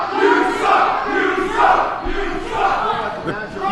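A wrestling show crowd at a Halloween event chants and roars in loud, swelling waves, a dense mass of voices rising and falling several times with no clear single speaker.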